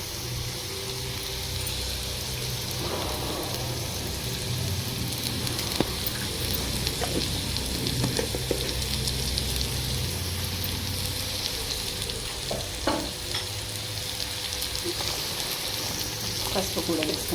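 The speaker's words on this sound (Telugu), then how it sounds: "కొంచెం పచ్చిపాసం పోయేంత వరకు కొంచెం ఆనియన్స్ వేయించుకుందాము" Onions frying in a pan with turmeric and salt, a steady broadband sizzle running throughout with occasional clatters of stirring, moderately loud and close.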